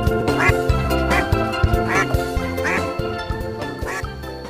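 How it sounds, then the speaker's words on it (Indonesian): A white duck quacks repeatedly in loud, evenly spaced bursts, several quacks close by with no talking over them. "bebek"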